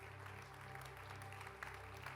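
Steady applause from a church congregation, the clapping dense and continuous, quiet and a little distant, with no talk over it.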